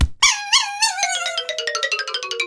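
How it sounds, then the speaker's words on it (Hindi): A cartoon dog lets out a loud, drawn-out howl that breaks into a quick series of falling whimpering yelps, close and alone. "कुत्ता बिल्लू का बूट मुंह में दबाकर वहां से भाग लेता है।"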